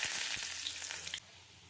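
Mustard seeds, asafoetida and curry leaves hit hot oil for a garlic chutney tempering, a loud crackling sizzle with popping that cuts off abruptly after about a second, leaving quiet.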